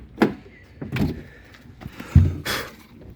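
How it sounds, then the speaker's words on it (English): A Ford Focus door with a bad door checker and broken spot welds is shut hard, giving several distinct close thumps and clunks spaced about a second apart, with a rattling clatter and a brief airy rush after the loudest slam. "Let's slam that sucker."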